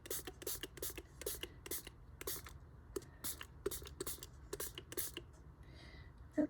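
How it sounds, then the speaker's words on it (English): A handheld spray bottle mists water onto a homemade Christmas card: a quick series of soft, short spritzes, roughly evenly spaced, quiet and close with no voices. "What do I do with my spray bottle? Here it is. I'm going to spray this first."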